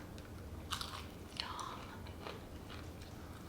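Extra-crispy garlic parmesan chicken wings are bitten into up close, giving a couple of crisp crunches followed by quiet chewing, with a faint voice in the background.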